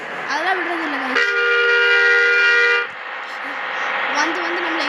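A bus horn in Bus Simulator Indonesia blares once in a sustained honk lasting about two seconds, loud and close, with someone talking over the engine noise around it.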